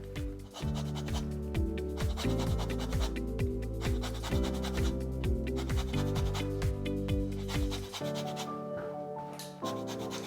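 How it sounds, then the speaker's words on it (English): Lemons and oranges are zested into butter, a continuous close scraping rasp that carries under steady background music. "what we're actually gonna do is zest all of our citrus into the butter"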